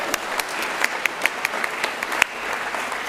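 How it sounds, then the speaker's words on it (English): Applause from the audience at a Scottish youth championships results ceremony, a steady crowd patter with a few sharp, close handclaps standing out in a loose rhythm. "Give yourself a huge round of applause."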